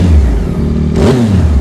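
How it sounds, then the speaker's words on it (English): A Yamaha R9 motorcycle fitted with a Yoshimura exhaust revs up close and loud, its engine note climbing sharply partway through after a steady idle. "I'm gonna go ahead and bless you guys' ears with this Yoshi one"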